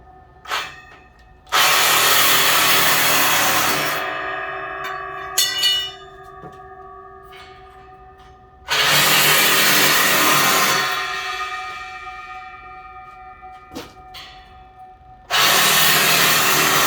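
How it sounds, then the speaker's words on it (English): A Sawzall reciprocating saw cuts through a metal railing in three loud bursts of about two to three seconds each, separated by quieter gaps where ringing metallic tones linger and clank. "I use a Sawzall. You can use a grinder if you want, doesn't really matter. Sawzall's pretty quick and clean though."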